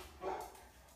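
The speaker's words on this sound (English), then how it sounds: "The dogs are barking." Eighteen-day-old puppies give a single soft, brief yip-like bark nearby, quiet and alone against a low background hum.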